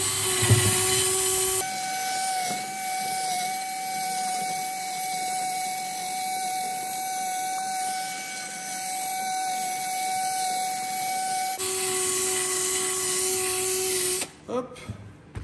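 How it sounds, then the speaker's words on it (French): Wet sanding a Renault Twingo headlight lens by hand with 1000-grit paper, a steady close rasping hiss that runs on without a break, with the water-soaked scrub softer in the middle stretch. "On va continuer à traiter avec un grain plus fin. Donc, on va refaire une deuxième passe avec du grain de 1000."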